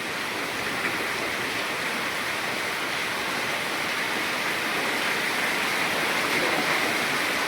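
Heavy rain pouring down in a sudden afternoon downpour, a dense, continuous roaring wash of water at even loudness throughout, with no voices.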